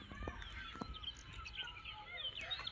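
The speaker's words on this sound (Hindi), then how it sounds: "बस चिड़ियों की चहक है।" Faint birds chirp and tweet intermittently in a quiet outdoor setting in the Uttarakhand Himalayas, with soft wind-like background noise and a few brief knocks.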